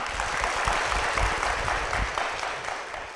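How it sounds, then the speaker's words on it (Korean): A Korean church congregation claps to welcome a woman deacon onto the stage, a steady wash of many hands at moderate level with no voices over it. "여러분 박수로 무대로 모시겠습니다"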